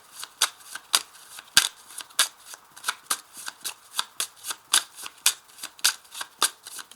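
A deck of 32 playing cards being shuffled, with a steady run of crisp riffling flicks and slaps repeating at a quick, even rhythm, close by and alone.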